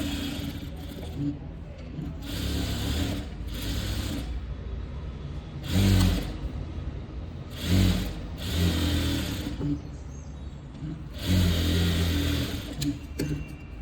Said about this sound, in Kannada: ಈಗ ನಾವು ಸ್ಟಿಚ್ಚನ್ನು ಹಾಕೊಂಡ್ಬಿಡೋಣ